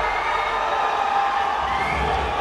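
An amateur MMA crowd in Plymouth roars for a fighter, a loud, continuous wall of cheering and shouting that stays sustained and unbroken throughout, with no distinct individual voices standing out.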